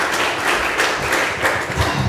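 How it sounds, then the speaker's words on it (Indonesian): Audience at a church sermon clapping in a steady, fairly loud burst of applause that continues throughout without speech. "Kasih tepuk tangan sekali lagi gitu."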